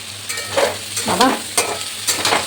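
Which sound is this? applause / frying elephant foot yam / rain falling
frying elephant foot yam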